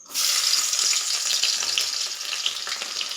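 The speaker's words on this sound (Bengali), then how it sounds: "এই যে থেতো করা রাখা রসুনটা দিয়ে দেবো এটার মধ্যে" A loud, sudden hiss as crushed garlic hits hot oil with chilies, settling into a steady crackling sizzle that continues to the end.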